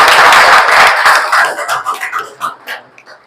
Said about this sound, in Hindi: उनकी ताली बजाओ